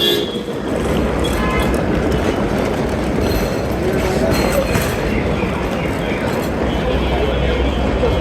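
A Delhi Airport Express metro train runs with a loud, steady rumble and rushing noise that continues without a break, heard from inside the carriage with faint voices underneath.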